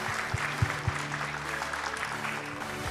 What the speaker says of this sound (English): can you please help me give a big round of applause to my panelists?